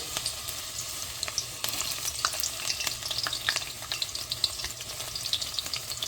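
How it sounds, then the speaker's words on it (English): Ginger and garlic sauté in oil for chili oil, a busy crackling sizzle with frequent sharp pops and spatters close by, growing slightly livelier after the first couple of seconds. "So let's start sauteing our ingredients. We'll start with our ginger and garlic first"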